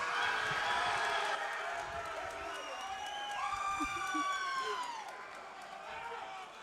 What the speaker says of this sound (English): we certainly have the crowd fired up